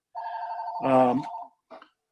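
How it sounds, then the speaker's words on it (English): A telephone rings in a workplace safety presentation setting: one steady electronic ring tone, then a burst of louder harmonic tones in the middle, and a short faint tone after a brief gap. "excuse me, this phone's going off."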